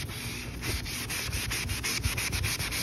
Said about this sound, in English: Let's see what happens with this magic eraser.